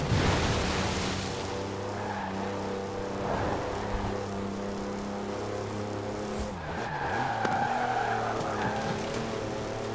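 Engine note and exhaust of a car in the driving game Forza Horizon 4 drone steadily, with a few sharp pops and crackles breaking through near the middle and again later. No one talks over it.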